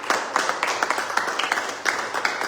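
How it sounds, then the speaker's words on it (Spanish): A church congregation applauds during a Spanish-language worship service: a quick, rhythmic run of hand claps at moderate loudness that carries on without pause, with a faint voice underneath. "Denle un aplauso al Señor,"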